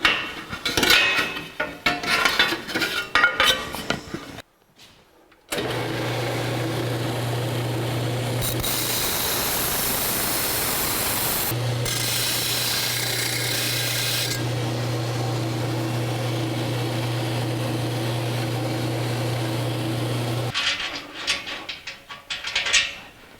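A power tool cuts and grinds the metal heat shield of a 1949 Chevrolet gasser, a steady loud whine running about fifteen seconds with a brief pause, framed by shorter scraping and handling noises before and after.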